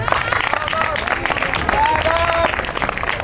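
An audience at a slow-jazz band's live show claps for the group's singer, a short burst of dense applause mixed with crowd murmur, moderately close.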